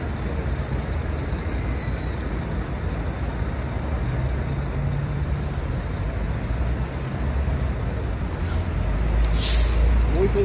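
A city bus idles nearby with a steady low diesel rumble, followed near the end by a sharp, loud hiss of air brakes releasing as it prepares to leave.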